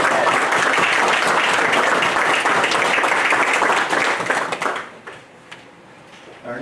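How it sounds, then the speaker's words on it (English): Loud, full applause from the audience at a town council meeting, many hands clapping steadily for about five seconds before stopping abruptly, leaving a quieter room with a few scattered claps. "Let's give them a round of applause."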